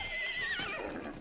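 A horse in a video game lets out a single high, wavering whinny, fairly close and clear, with faint hoof clatter underneath.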